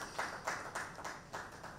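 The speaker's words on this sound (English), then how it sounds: "I think this is a round of applause" Steady applause from an audience, a rhythmic wash of clapping heard from a moderate distance.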